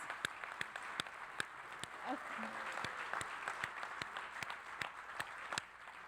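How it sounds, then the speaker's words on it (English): An audience applauds the 2015 Honoring Nations awardees and finalists at an NCAI session: a steady patter of many hands, with a few sharp individual claps standing out near the microphone. "If we could give all of our awardees, finalists for 2015 a big round of applause."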